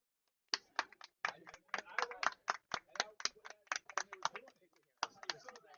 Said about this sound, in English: Fans applauding the double.